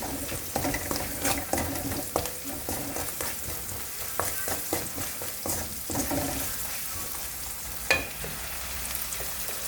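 Garlic and ginger sauté with salt in a pan for Kerala mango pickle, a continuous crackling sizzle broken by frequent stirring scrapes and clinks, one louder knock near the end, no voices.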